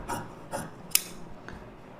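Fabric scissors snip through blouse sleeve material along a marked shape, giving a few short, close rasping cuts spaced about half a second apart, with one sharper click in the middle and quiet pauses between.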